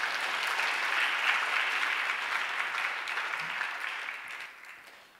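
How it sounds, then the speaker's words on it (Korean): A congregation claps steadily to welcome a pastor to the pulpit at a church service, a dense sustained wash of applause that gradually fades toward the end. "우리 이용 목사님을 박수로 맞이하겠습니다"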